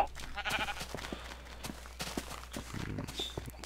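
Sheep bleating in the Minecraft video game, with a few short game bleats and soft clopping footstep sounds in a brief, moderately loud sequence.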